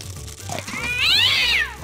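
A cat meows in modded Minecraft (Crazy Craft), one loud close drawn-out meow rising then falling, heard alone over faint background game sound.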